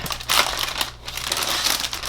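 A soft rubber case for a 10.2-inch seventh-generation iPad is handled up close, giving a brief run of crinkly, squeaky rubbing and crumpling sounds with no voices.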